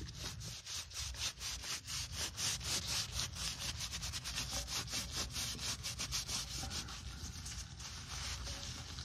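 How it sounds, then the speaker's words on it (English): A towel rubbing old wax off a metal surface, with quick repeated scrubbing strokes in a steady back-and-forth rhythm, close and fairly quiet, with no talking. "as you rub and press, the wax will start to just come completely off"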